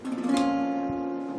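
A single guitar chord rings out clearly and sustains, slowly fading, with a faint second pluck partway through.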